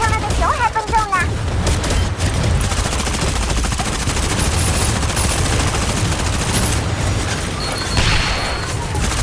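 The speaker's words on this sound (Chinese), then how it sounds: "小枪声，果然就在这附近" Gunfire in a video game crackles in dense, loud bursts of overlapping shots, with voices heard under the shooting.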